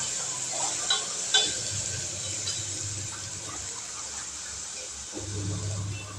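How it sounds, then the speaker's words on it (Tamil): Food simmering on low heat in a pan being stirred, with soft intermittent scrapes over a faint hiss and a low background hum, moderately quiet. "அதை கிண்டி விட்டுக்கலாம்."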